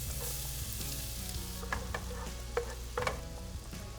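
Shallots sizzling and frying in a hot pan, a steady close crackle with a few sharper pops and stirring scrapes, with no talk.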